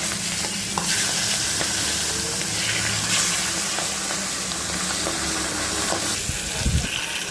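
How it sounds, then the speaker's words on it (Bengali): Pieces of rohu fish fry in hot oil, sizzling steadily and loudly, with occasional scrapes and clatter as they are turned in the pan. "উলট পালট করে ভালো করে ভেজে নিব।"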